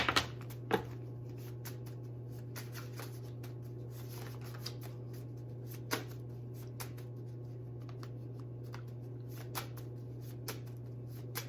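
Tarot cards being shuffled close by: soft riffling and flicking with scattered sharp clicks over a steady low hum, no talking.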